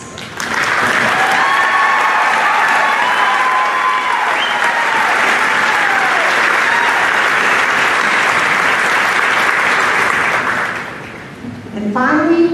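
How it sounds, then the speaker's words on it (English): A graduation audience applauds high school dual enrollment students at a college commencement ceremony, steady dense clapping from a large crowd sustained for about ten seconds, then fading as a voice begins. "please stand so we can all applaud your outstanding achievements"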